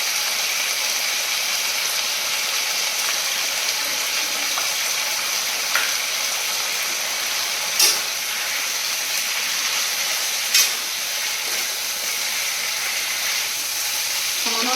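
Mustard paste fries in a pan, a steady, fairly quiet sizzle and hiss running throughout, broken by a few faint clicks of a utensil.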